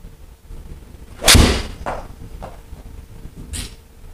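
A golf swing with a 7-iron striking the ball: one sharp, loud crack, followed by a few fainter clicks and knocks outdoors, with no talk.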